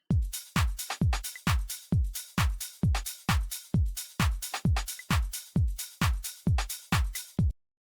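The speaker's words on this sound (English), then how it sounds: "we've got the drums, which sound like this" Stripped-back house drums from an Essentials kit thump in a steady four-on-the-floor pattern, with crisp hats between each kick and claps layered in, looping evenly with nothing else playing.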